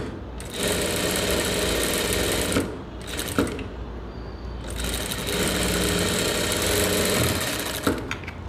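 Sewing machine stitching blouse fabric, running close in two long steady whirring runs separated by short pauses and brief bursts, with no talking.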